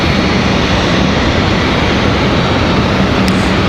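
An Air Canada airliner at Raleigh Durham airport roars with a loud, steady broadband engine rumble that stays constant throughout.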